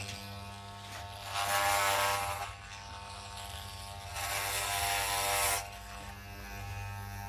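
An electric hair clipper buzzes against a head being shaved bald, with two loud, close passes of a few seconds each while a steady motor hum runs underneath.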